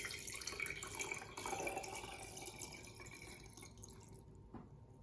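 Water is poured into a jar holding a sweet potato, a faint, close trickle and splash that runs for several seconds and gradually quiets.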